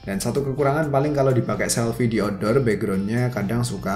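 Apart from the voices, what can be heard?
No everyday noise stands out behind the speech.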